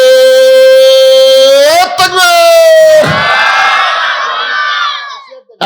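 At an Islamic sermon gathering, one man draws out a long, loud call, then a large crowd answers by shouting the takbir together in a loud, massed roar that slowly fades.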